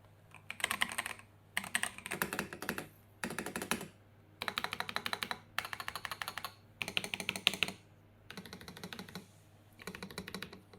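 Quick bursts of clacky typing on a custom mechanical keyboard come in repeated runs separated by short pauses, close and crisp against a quiet room hum.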